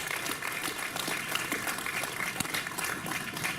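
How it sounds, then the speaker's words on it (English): Crowd applause at a regional youth baseball game ceremony for an honorary veteran, steady scattered clapping heard from a distance, fairly faint and continuous. "One more round of applause for our honorary veteran,"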